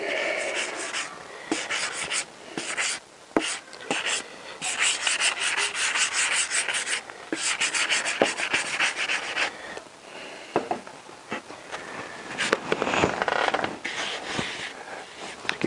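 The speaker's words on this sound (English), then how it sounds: "Give it a light rub down all over." A Honda CBR1000F motorcycle part gets a light hand rub-down before lacquer: close, uneven scratchy sanding strokes in short bursts, fairly quiet, with brief pauses between passes and no talking.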